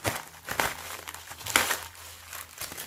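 A large paper envelope being handled and opened during a scrapbooking haul, with crinkling and rustling in several bursts, the loudest around the middle, fairly close and with no talk.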